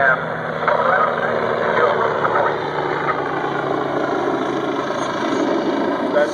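A helicopter engine and rotor run steadily during an aerobatic flying display at Oshkosh 2011, with a continuous droning hum and faint rhythmic rotor beat, while someone talks over it.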